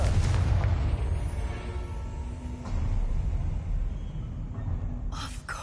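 A Confringo blasting spell explodes in the Hogwarts Legacy video game, producing a heavy booming rumble with rolling low-end bursts that hold steady, then a brief sharp crackle near the end.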